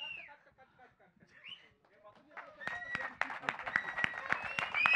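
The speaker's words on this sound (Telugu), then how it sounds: "ఈ క్లాప్స్ సరిపోవు, ఈ విజిల్స్ సరిపోవు" Audience applause and clapping breaks out after a quiet stretch of faint voices, building into dense, fairly loud clapping with occasional high whistles through the second half.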